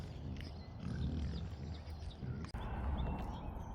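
Pigs on a sheep farm grunting and snuffling close by in a low, steady rumble, with light shuffling and a brief knock midway, no talking.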